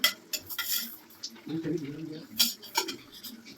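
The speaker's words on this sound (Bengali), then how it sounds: "দিয়ে গ্রেভিটাকে ভালো করে নাড়াচাড়া করবো" A utensil stirs potato curry gravy in a pan with soft scraping and clinking against the metal, intermittent and fairly quiet, with faint background noise.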